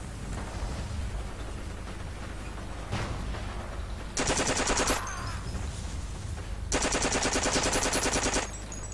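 Gunfire in the World War II shooter game Forgotten Hope 2 during a desert raid, with two sustained bursts of rapid automatic fire and a single shot before them, over a constant low rumble of background noise.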